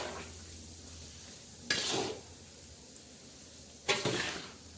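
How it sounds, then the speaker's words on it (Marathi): Mango pickle masala is stirred in a kadhai, with two distinct bursts of scraping and sizzling about two seconds apart over a quiet background. "असं आपण ह्या कढईत पूर्ण मसाला असा हलवत आहोत"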